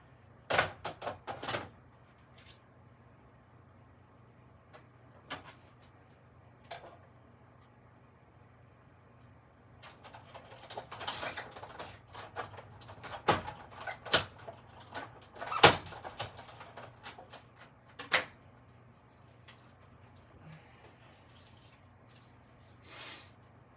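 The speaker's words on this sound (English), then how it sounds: "Same thing, just running it through the cutter back here." A white paper frame is cranked through a die-cutting machine, giving irregular clunks, knocks and rattling scrapes, busiest near the middle, over a quiet low hum.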